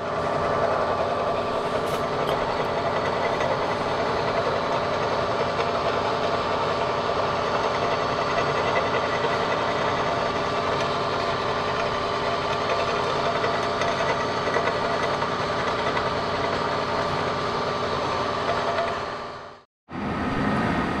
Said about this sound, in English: I'm almost all done with machining for the groove for the gasket